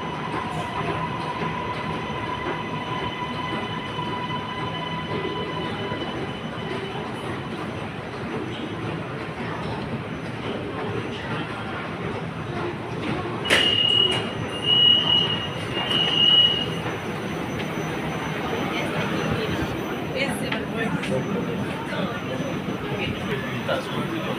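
A train in Malaysia slows to a stop at a station with a long rumble, high squealing wheels and brief bright tones near the end as the doors open. Faint voices run underneath.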